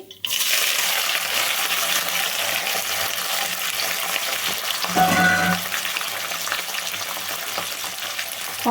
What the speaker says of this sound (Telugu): ఫాస్ట్గా వేగడానికి అయితే ఉల్లిపాయ కొంచెం సాల్ట్ చాలా ఫాస్ట్గా వేగుతుందండి బాగా వేగాలి